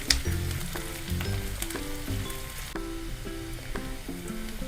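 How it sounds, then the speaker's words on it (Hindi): Onions fry in a pan over medium heat for paneer bhurji, a bright continuous sizzle with occasional stirring, heard close under steady background music. "गैस को मीडियम आंच पर कर देंगे और हल्का ब्राउन होने तक हम अनियन को भूनेंगे।"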